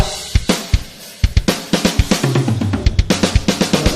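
A drum is struck in quick, rhythmic hits, sparse at first then a steady rapid pattern with a lower tone sliding underneath.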